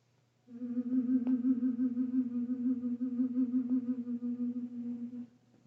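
A single steady hummed tone, soft and close, held for about five seconds with slight wavering, then stopping.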